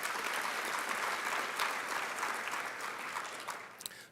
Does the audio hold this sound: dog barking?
no